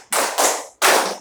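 Schoolchildren in a classroom clapping in unison, two loud group claps close together followed by a third after a short pause, sharp and near.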